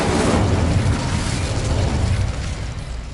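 The Incendio fire spell cast in the Hogwarts Legacy video game, a loud burst of roaring flame that whooshes and crackles, then slowly fades over a few seconds.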